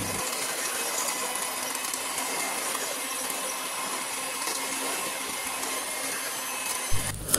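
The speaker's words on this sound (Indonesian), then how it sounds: "Setelah itu di mixer dengan kecepatan sedang sampai tinggi." An electric mixer beats cake batter with sugar at medium to high speed, giving a steady close mechanical whir that runs unbroken and ends in a couple of clunks.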